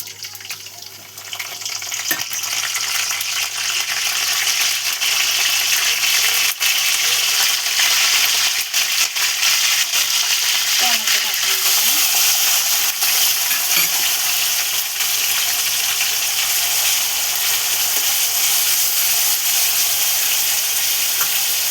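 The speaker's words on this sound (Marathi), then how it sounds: "जिरे तडतडले की तुम्ही कढीपत्ता टाका" Steady loud sizzling of cumin seeds and curry leaves frying in hot oil, with crackling pops throughout and no talking.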